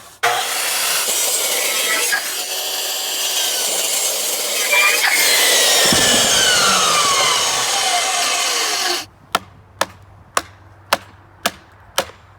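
A power saw cuts notches into wooden house framing posts, buzzing loudly and steadily for several seconds before stopping. A series of sharp knocks or taps on the wood follows.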